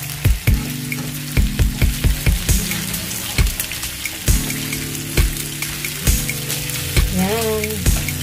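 A utensil stirs shrimp simmering in coconut milk with pineapple in a pan, making repeated rhythmic scraping strokes over a steady bubbling sizzle, with a brief clink near the end.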